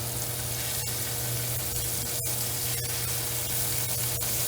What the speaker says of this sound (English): You want them to have that sizzle as soon as they touch the pan.